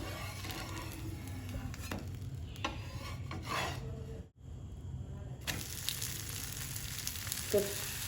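Soya curry uthappam frying in oil on a pan just after flipping, giving a steady close sizzle with scraping and rubbing sounds, a brief dropout midway, then the sizzle returns.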